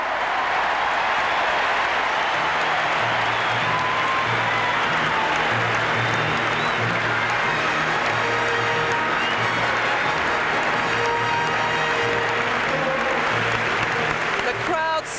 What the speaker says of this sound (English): The crowd suddenly found its voices, its feet and its hands, clapping wildly